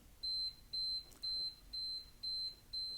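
An electronic beeper sounds six evenly spaced, clear high-pitched beeps of about a quarter second each, steady and regular, with no talk over them.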